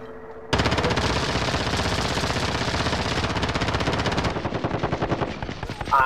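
Gunfire in the video game Call of Duty: Modern Warfare: a long, loud burst of rapid automatic fire that goes on for several seconds and breaks into separate shots near the end.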